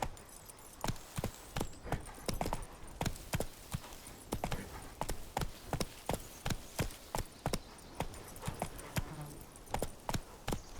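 Roach the horse gallops in The Witcher 3, her hooves clip-clopping in a steady, even rhythm of sharp thuds that carries on alone without speech.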